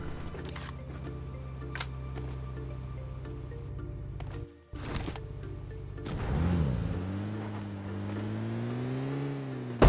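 A car driving in the mobile game BGMI gives a steady, droning engine hum that cuts out briefly midway, then returns with a rising, wavering revving pitch. No one speaks.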